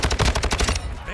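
Rapid automatic gunfire from an MG in Call of Duty: Modern Warfare II, a loud, fast train of regular shots that breaks off partway, with the tail fading into ambient game noise.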